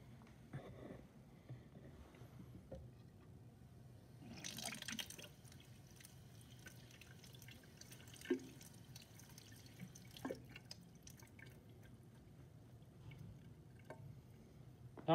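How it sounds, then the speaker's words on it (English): Tap water runs faintly and steadily while a dialysis bag is rinsed under it, a soft continuous trickle with a few light knocks and splashes, quiet and close, no speech. "I'm going to rinse that off quick."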